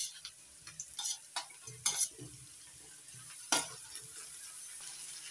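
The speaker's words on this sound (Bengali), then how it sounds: "এবার একসঙ্গে ভালো করে মিশিয়ে নিচ্ছি।" A spoon stirring fried rice with fried prawns, chicken and egg in a frying pan, giving several scraping clinks against the metal over a soft sizzle, near and fairly quiet.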